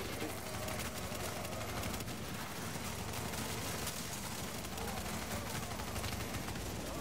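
Dense, continuous video-game gunfire in a fast online shooter mission, rapid bursts blending into a steady roar with talk underneath.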